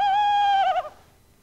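A human voice imitates an owl hooting: one long, steady, close hoot that wavers and breaks near its end, then stops, with no other sound around it.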